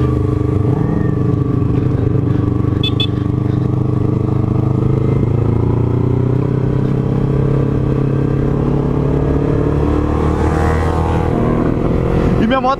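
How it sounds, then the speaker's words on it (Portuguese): A cold Yamaha MT-03 motorcycle engine idles and runs on the street, rumbling steadily and close for the whole stretch with a rise in revs near the end, while someone talks over it. "A moto ainda não tá aquecida"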